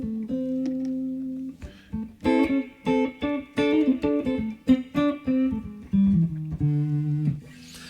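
Mellow, warm 2000 Gibson ES-135 electric guitar with the tone knob rolled off, plucking a series of jazzy chords and single notes in an unhurried rhythm, played solo and close.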